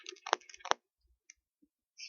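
A computer mouse gives a couple of crisp, close clicks near the start, followed by silence and a few faint ticks.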